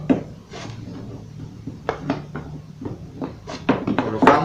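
Melamine slats for an office drawer cabinet are set in place, giving short wooden knocks, rubs and scrapes in an uneven sequence, close and moderately loud.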